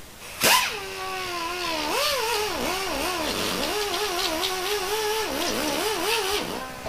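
A power tool spins a blue Scotch-Brite style disc against the cylinder head gasket surface of a Kawasaki FX850V engine, giving a close, steady whine whose pitch dips and rises as pressure changes.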